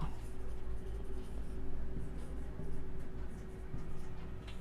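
A pen writes "Cape of Good Hope" onto a map, scratching faintly and steadily under a woman's close speech.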